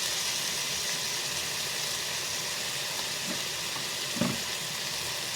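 Chopsuey being stir-fried in a pan after oyster sauce is added, with a steady close sizzle and faint scraping and stirring clatter. A brief louder clank comes near the end.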